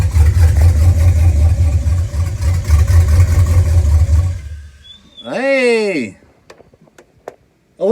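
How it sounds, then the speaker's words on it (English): An LS-swapped G30 van engine idles with a deep, steady rumble and then shuts off, the running noise cutting out abruptly midway and leaving near silence broken by a brief squealing sound. "let's see if when I turn this key off, if Herbert's engine shuts off"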